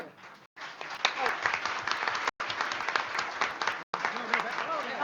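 Audience applause at a school board of education meeting, steady and dense for about five seconds, broken by brief cuts, with a speaker's voice running over it.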